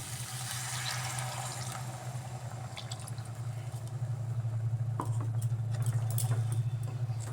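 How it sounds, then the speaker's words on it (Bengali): Blender-rinse water is poured into spice masala frying in a pan for aloo dum. The water splashes and gurgles softly over a steady low hum, and the sound grows slightly fuller toward the end. "এবার এর মধ্যে আমি মিক্সি দেওয়া জলটা দিয়ে দিচ্ছি"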